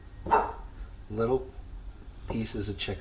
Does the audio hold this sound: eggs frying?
no